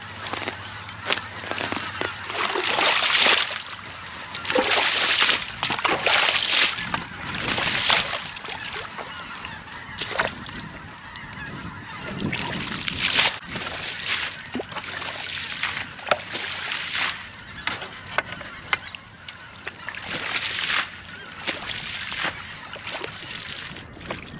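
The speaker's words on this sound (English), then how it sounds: "try to get as much of the water out as I can" Water being bailed and splashed out of a freshly dug hole in soft, wet ground, with repeated irregular scoops, sloshes and trickles close by over a steady outdoor background.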